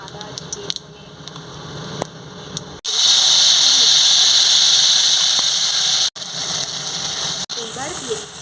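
A paste of ground ginger, cumin and coriander hits hot oil with a sudden loud hiss, then sizzles steadily and vigorously up close, with brief interruptions and a voice talking over it.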